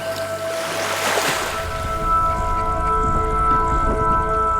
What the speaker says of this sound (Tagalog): Lakas pa naman ang agos.